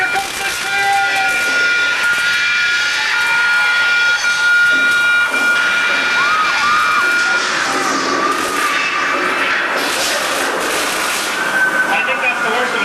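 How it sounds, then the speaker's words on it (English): Train arriving on the Universal Studios earthquake tram-tour attraction in 1995, a loud continuous mix of siren-like tones, rumble and hiss under excited voices, close and sustained. "Oh, here comes the train!"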